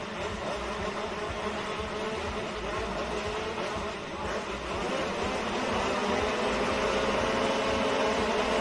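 Motocross bikes sit on the start gate at a British championship race at Hawkstone Park, their engines holding a dense, steady, buzzing roar that swells slightly louder toward the end, with no talk over it.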